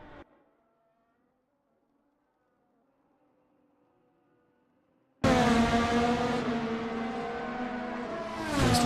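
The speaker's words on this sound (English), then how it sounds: "Mr. Jack zooming by the Aston Martin." A race car in a sim racing game at the Red Bull Ring roars past an Aston Martin, starting abruptly after five seconds of near silence with a loud, sustained engine note that rises in pitch toward the end.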